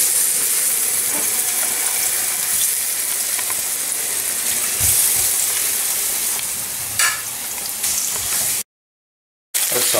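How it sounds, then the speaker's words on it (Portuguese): Pork steaks fry in olive oil in a pan with a steady, bright sizzle and crackle that holds evenly for several seconds before cutting to a brief silence near the end; nobody speaks. "Vamos começar a fritar os nossos bifinhos."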